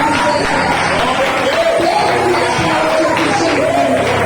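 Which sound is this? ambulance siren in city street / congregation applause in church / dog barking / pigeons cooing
congregation applause in church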